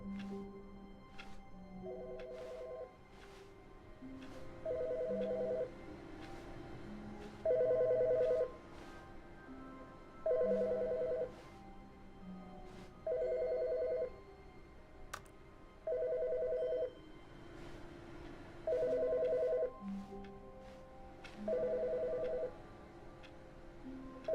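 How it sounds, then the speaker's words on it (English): A telephone rings inside the video game The Stanley Parable, sounding eight evenly spaced double-burst rings over a low ambient hum, clear and fairly close with no talking. "There's a phone ringing."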